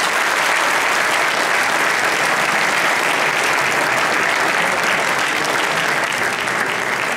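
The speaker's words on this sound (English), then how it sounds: "may I request a big round of applause for him" A large audience applauds a chief guest from IBM India Limited at a formal ceremony, a steady, dense wash of clapping that stays loud and unbroken throughout, with no talk over it.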